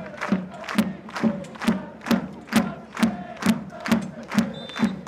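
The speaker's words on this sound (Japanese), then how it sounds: "スタンド1000人を超えるお客さんからは大きな大きな拍手が起きています" A crowd of over a thousand spectators in the stand at Niigata's athletics stadium applauds after a women's league football match as the players bow, the clapping swelling in a steady rhythmic pulse roughly twice a second with a low thump on each beat.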